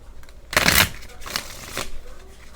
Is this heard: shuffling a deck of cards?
yes